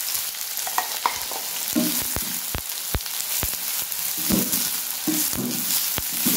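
Chopped onions with garlic, cumin and fenugreek frying in hot oil for a village dried-fish curry, a constant sizzle broken by sharp scraping stirs of a spatula against the pan, no voices.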